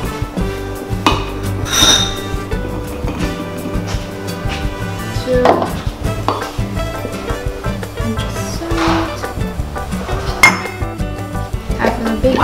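A whisk and utensils clatter and clink against a mixing bowl while baking porcupine cakes, giving loud, irregular metallic knocks and scrapes up close with a dog barking in places.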